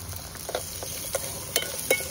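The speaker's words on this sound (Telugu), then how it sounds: "అదే బాడీలో వేసి కొంచెం ఆయిల్ వేసి లైట్గా ఫ్రై చేసుకోవాలి" Raw mango pieces frying lightly in a little oil, giving a soft, close sizzle with a few brief clinks and stirring scrapes scattered through it. No one speaks.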